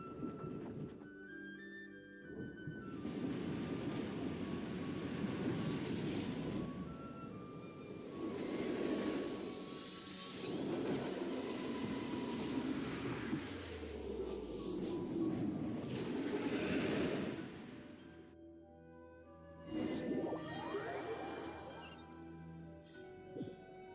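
A train crashing and flying off its tracks in the Genshin Impact video game: a loud, sustained roaring rumble with whooshing swells and a sharp impact burst near the end, layered with game music and effects.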